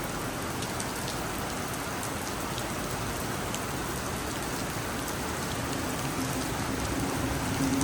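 Heavy rain falls at Sydney's Redfern train station as a dense, steady hiss of drops on surfaces, unbroken and fairly quiet throughout, with no voices.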